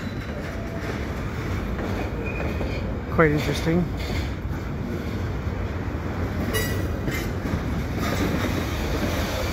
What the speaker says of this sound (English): First time I've caught a train kicking cars in here.